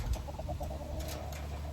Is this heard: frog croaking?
no